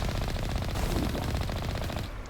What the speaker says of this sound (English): this tank has a missile launcher and a machine gun on it